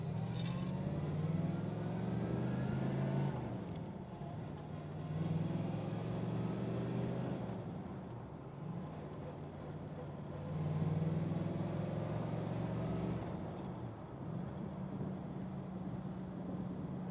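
A 1961 Corvette engine accelerates on the road in Las Vegas, with a steady low rumble that rises in pitch through several gear pulls and eases between them, close and continuous with no talking.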